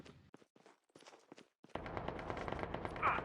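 Gunfire crackles in a battle royale video game, starting with scattered sharp shots and bursts between quiet gaps, then becoming a dense, continuous rattle of rapid automatic fire that swells slightly toward the end.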